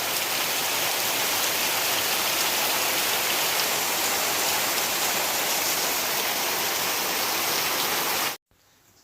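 Heavy rain pours down in a dense, loud, continuous hiss under a dark sky, steady throughout before cutting off abruptly near the end, with no voices.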